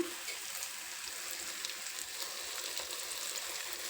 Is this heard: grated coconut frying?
yes